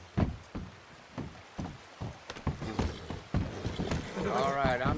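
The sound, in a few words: horse hooves clip-clop, from a video game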